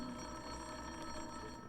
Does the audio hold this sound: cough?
no